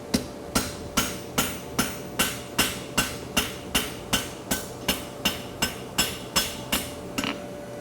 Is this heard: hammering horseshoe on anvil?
yes